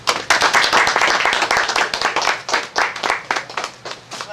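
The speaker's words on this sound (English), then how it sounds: "please welcome me in giving her a round of applause, Marri Champion" An audience at an author's reading gives a round of applause, dense steady clapping from many hands close by that holds for several seconds before thinning slightly toward the end.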